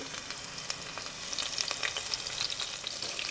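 Cumin seeds and green chillies crackle and sizzle in hot oil, a soft continuous frying hiss with small pops and the occasional stir, no voices.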